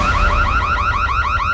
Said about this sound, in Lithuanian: dabar galiu paspausti signalizaciją